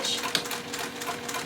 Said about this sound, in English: That is where I'm going to start sewing, back stitch.